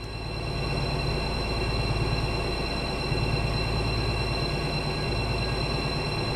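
A DB BR 218 diesel locomotive in the Train Sim World game idles with a steady, deep throbbing engine drone and a constant mechanical hum that hold evenly throughout.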